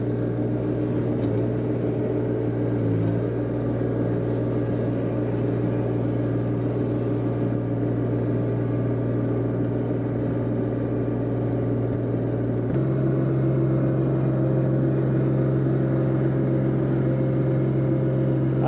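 Turbocharged compact tractor pushing snow with a front-mounted blade, a continuous loud engine drone with a sudden drop in pitch partway through, no talk.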